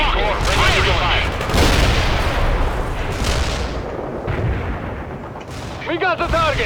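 Heavy booming launches and rattling gunfire from the World in Conflict strategy game, with BMP-2 infantry fighting vehicles firing missiles amid a dense, loud battle din; radio-style voices talk over parts of it.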